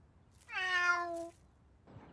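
A cartoon cat gives a single clear, drawn-out meow lasting under a second, close and tonal, in an otherwise quiet scene.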